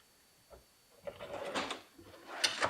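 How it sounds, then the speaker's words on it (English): A soft-close drawer in a Versa drawer bank slides shut, giving a short knock near half a second and then a longer rolling glide with a damped thud and light clatter near the end, close by with no talk. "check the stops, check the soft close"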